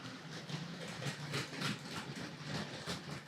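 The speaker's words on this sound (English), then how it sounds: "Nice reassuring clicks as the locomotive goes over the points" A Hornby GWR 0-4-0 tank locomotive hauling four-wheel coaches rolls over model track points, faint steady running hum with a soft repeating clicking rhythm from the wheels.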